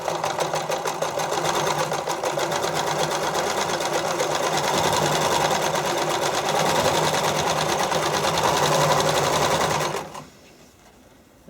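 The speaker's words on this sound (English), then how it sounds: "I tend to sew it a straight seam first" A sewing machine runs steadily, stitching a straight seam on figure skating soakers with a fast, even mechanical rhythm for about ten seconds before stopping abruptly, leaving quiet room noise.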